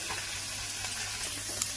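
Prawns frying in a pan for a Bengali ash gourd dish, a steady close sizzle with faint crackle, brief and without talk.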